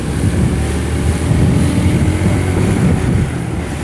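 A Yamaha M-King 150 motorcycle carrying two riders hums at a steady, loud cruise, with constant engine drone and rushing wind noise and no talk.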